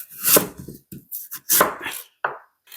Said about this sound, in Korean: 자, 무 너무 얇게 썰지 말고요